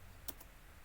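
A couple of quiet keystrokes on a computer keyboard while an SQL query is typed, two soft clicks close together against a faint background hiss.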